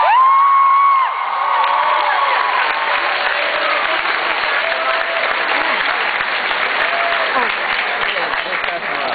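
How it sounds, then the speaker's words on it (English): A big round of applause in a restaurant dining room, dense steady clapping mixed with cheers and a few whoops, with a voice calling out over it at the start, sustained at full loudness throughout. "I think that is a big round of applause."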